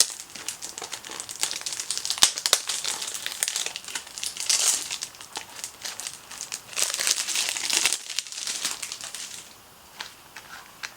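Paper packaging around a Louis Vuitton item crinkles and rustles at close range, in irregular bursts of crisp crackling that swell and fade as it is handled and opened.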